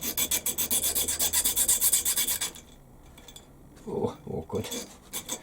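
A hand file rasps in fast, even strokes across a burred metal part made on a lathe for a quick change tool post, loud and close; the filing stops midway, followed by a few softer scrapes and a brief spoken remark.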